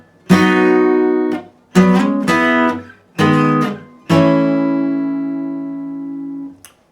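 Electric guitar playing the first verse chords of a song, four separate strummed chord groups with short gaps, the last chord left ringing and slowly fading.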